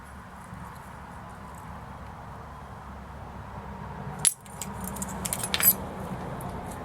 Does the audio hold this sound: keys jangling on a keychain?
yes